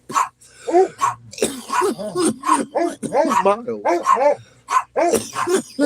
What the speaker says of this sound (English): You hear her barking in the background the whole time.